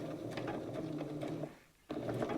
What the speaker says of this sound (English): And I'm just going to sew along with a 1/4 inch seam